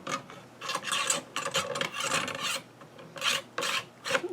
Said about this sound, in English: I'm trying to get that cleaning rod back in.